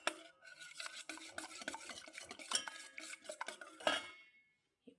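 Cake batter beaten by hand with a utensil in a bowl, quiet and close, a busy run of rapid clicking, scraping strokes that fades out at the end, with no voices.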